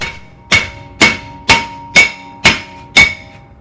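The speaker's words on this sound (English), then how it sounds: "you saw me hammering hard on there" Seven loud, evenly spaced metallic hammer strikes on a Toyota Camry brake rotor ring out about half a second apart, each with a brief ringing decay.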